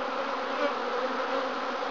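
Honeybees buzz in a close, steady, dense drone while a WBC hive is opened for inspection, with no voices over the sound.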